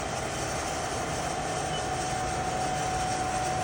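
A Trak DPM CNC vertical bed mill with ProtoTrak MX3 control runs its spindle near 2,800–4,200 RPM, giving off a steady, continuous machine hum with a faint whine and no pauses.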